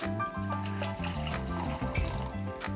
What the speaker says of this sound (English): So I just wanna pour out a libation